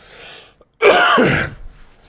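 A single harsh, throaty cough bursts out after a brief silence, loud and close, trailing off into quiet room noise.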